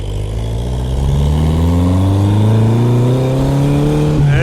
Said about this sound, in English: we are now speeding down the street. And there's a bit of wind